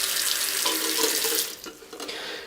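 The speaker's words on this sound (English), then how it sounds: "We're just going to run this underwater for a while and dump it out a couple times." A tap runs water into a film developing tank as it is rinsed, a steady bright splashing for over a second before the flow breaks up into irregular gurgles and splashes, close by with no talk.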